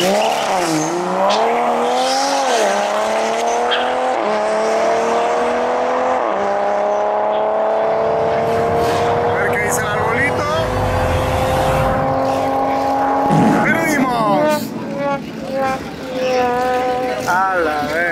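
An 800hp turbocharged Honda Civic race car accelerates hard at a racing competition, its engine note climbing through several gear changes, loud and close, with voices shouting over it.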